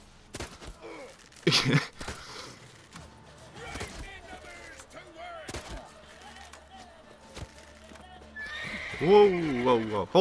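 A horse in The Witcher 3 gallops with clip-clopping hooves and lets out a loud whinny near the end, while someone talks over it and sharp combat hits ring out.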